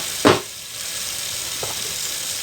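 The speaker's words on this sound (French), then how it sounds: "Et maintenant, je vais mettre un peu d'eau chaude." Hot water hits semolina in a pan with a quick, sharp hiss, then a fainter second splash a moment later, both set against a steady background hiss.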